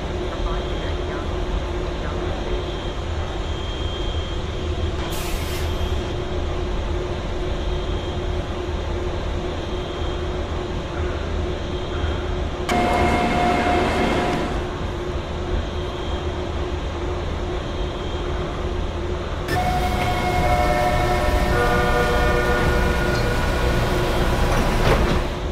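A Roblox game's TTC Line 2 subway train runs with a steady low rumble and hum throughout, with brighter bursts of screeching and chiming partway through, and a synthesized announcement voice over it.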